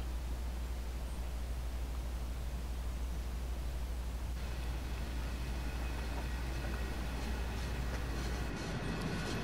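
Diesel locomotive on a local switching job departing, a continuous low rumble and broadband roar that holds steady throughout, moderately loud and unbroken.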